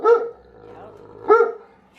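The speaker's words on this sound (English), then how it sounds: "you might as well just stop barking at them" A Great Dane barks indoors, two deep, close barks about a second apart with quiet between them.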